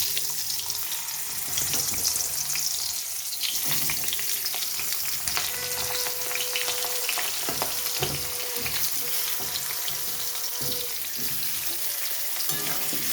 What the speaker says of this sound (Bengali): আলুগুলো একটু লাল লাল করে ভেজে নিয়ে তুলে দেবো।